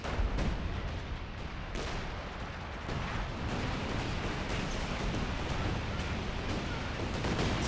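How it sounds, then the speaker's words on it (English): Distant artillery fire in the World War II strategy game Company of Heroes 2 on the Essen Steelworks map, a steady thudding barrage of booms and scattered gunshots rolling under a busy battlefield din. "I hear some artillery in the distance."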